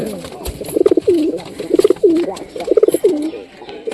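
Domestic pigeons cooing near a cleaned coop, several close, rhythmic rolling coos in repeated bursts, fairly loud.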